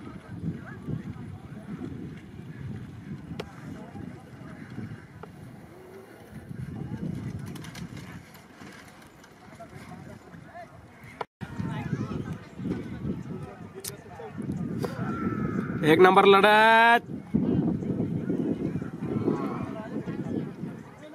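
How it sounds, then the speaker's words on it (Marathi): Bulls pull carts in a horse-and-bullock cart race on an open ground at Nagarsul, Yeola, with the rapid patter of hooves and cart rumble under loud, continuous race commentary, swelling nearer toward the end. "एक नंबर बैल पळत आहे।"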